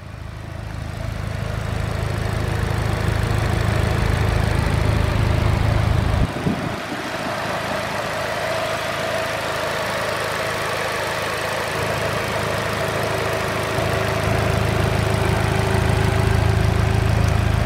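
A 2011 Vauxhall Corsa VXR Blue Edition's 1.6 litre turbocharged four-cylinder engine idles with a steady, loud, close hum and low rumble, briefly dipping once before settling back to an even drone.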